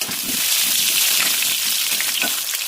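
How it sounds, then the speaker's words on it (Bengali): Diced new potatoes frying in hot oil, a loud steady bright sizzle heard up close, with a few faint stirring knocks underneath and no talking. "তেলটা গরম হয়ে গেছে, আমি কিছুটা আলু ডুমো ডুমো করে কেটে রেখেছিলাম, এই আলুগুলো আমি ভেজে দেবো।"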